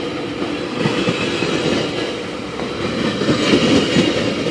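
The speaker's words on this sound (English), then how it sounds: "GO train coming from Stouffville." A GO Transit express commuter train from Stouffville rumbles past steadily at Danforth, with rhythmic wheel clatter and a broad roar that swells slightly toward the end; no voices.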